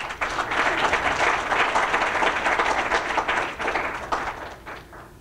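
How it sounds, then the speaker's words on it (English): Applause from a large crowd at a school's 7-12 campus grand opening, sustained dense clapping for about five seconds before thinning and fading out. "let's give a big round of applause"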